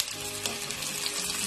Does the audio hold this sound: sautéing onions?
yes